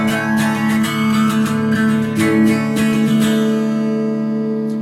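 An electric guitar plays the intro of the song as a steady run of clean, ringing picked notes, close and alone.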